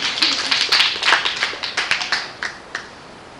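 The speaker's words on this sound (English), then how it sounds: "Somebody give him a hand clap." A church congregation claps their hands, a burst of sharp claps that starts fairly loud and gradually thins out into scattered individual claps before fading.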